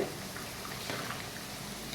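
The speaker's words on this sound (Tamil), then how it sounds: "பாருங்க தண்ணி நல்லா கொதிச்சிட்ருக்கு" Water boiling with rice in a pot while plain biryani cooks, a continuous bubbling, churning simmer at close range, steady throughout with no talk.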